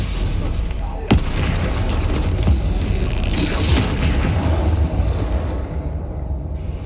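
A spell blast from the game Hogwarts Legacy lands as a sharp crack near the start, followed by rumbling booms and mechanical clatter that fill the rest of the clip.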